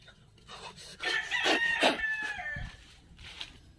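A rooster crows once, a long strained call close by, over a low background hum.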